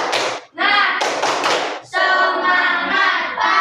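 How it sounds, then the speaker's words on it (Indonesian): Children in a classroom clap their hands together in a short burst of rhythmic, patterned clapping, close and loud, with voices mixed in between the claps. "Tepuk tangan dulu."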